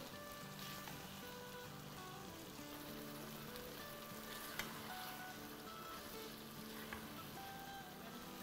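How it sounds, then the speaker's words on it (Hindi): Chicken keema and potatoes fry in a pan with a steady, dense sizzle throughout, carrying a few faint pops and no talk. "अब हम दो तीन मिनट तक आलूओं के साथ इसे कीमे को अच्छे से भूनेंगे"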